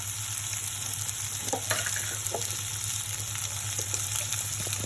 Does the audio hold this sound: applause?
no